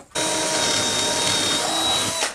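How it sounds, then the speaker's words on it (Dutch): A power drill bores a hole in a workshop while a diesel heater is being installed, giving one steady, loud, high-pitched whirring run of about two seconds with an abrupt start and stop. "Daar ga ik hem boren."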